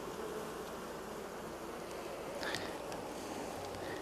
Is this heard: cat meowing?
no